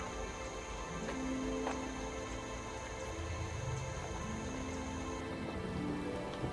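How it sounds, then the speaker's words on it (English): Steady rain falls on a rainy August day at Crabtree Nature Center, a continuous close hiss of drops with occasional faint tones in the background and no voices. "Rainy day, but somehow I think I'm gonna survive and get dry to the car."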